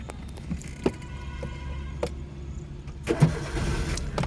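A manual car started with the clutch fully pressed during a first driving lesson: a few clicks and faint mechanical knocks, then the engine catches and settles into a low steady idle near the end.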